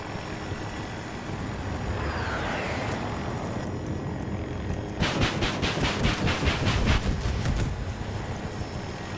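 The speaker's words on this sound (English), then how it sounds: "Another jet is up, flying high over above me towards our spawn." A jet aircraft flies high overhead in the Battlefield 2042 video game, a broad roaring sweep over continuous battle noise with rapid bursts of gunfire midway, loud and with no voices.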